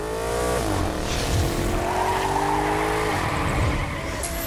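In The Crew video game, a car is pushed to its limit on a track, with a loud engine revving and shifting through gears as tires screech through skids, a continuous close racing roar.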